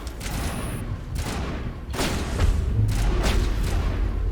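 Pistol gunfire in the video game Mass Effect Legendary Edition: a few sharp, booming shots spaced about a second apart over a low rumbling game background, loud and close.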